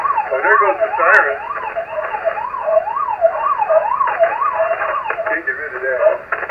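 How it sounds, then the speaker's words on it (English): A wailing siren rises and falls in repeated cycles over a 40-metre ham radio, thin and band-limited through the receiver hiss, while a voice talks across it. "oh, there goes the siren."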